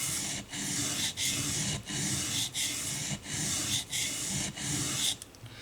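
Knife blade scraped back and forth on a fine sharpening stone to thin it, a close, even rasping rub repeated in about eight steady strokes with brief gaps between.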